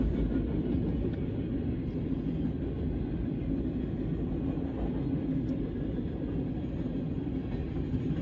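A CSX freight train rolls past in a steady low rumble, moderately distant and unbroken, with no voices over it.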